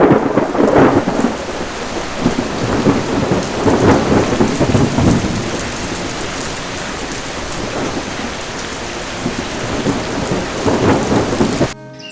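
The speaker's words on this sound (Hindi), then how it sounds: "कुछ ही दिनों में बारिश का मौसम आया।" Steady heavy rain pours throughout while several deep thunder rolls swell and fade, loud and close, in a cartoon forest setting.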